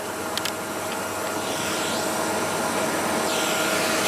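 A Miele S8730 HEPA C3 Complete cylinder vacuum cleaner runs with a steady, loud broadband whoosh and a constant motor whine, close up and continuous throughout.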